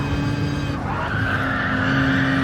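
Race cars skidding in the video game Gran Turismo Sport, a sustained tire squeal and engine roar that shifts pitch midway, loud and continuous with no voices.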